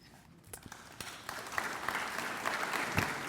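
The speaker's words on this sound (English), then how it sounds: "They're just trying to stage applause." Applause at a county State of the County address rises from a quiet start into fuller, steady clapping from the crowd over a few seconds.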